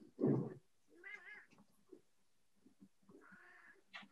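A house cat meows several times indoors, a loud close cry at the start followed by softer, wavering meows and small sounds, with no talking.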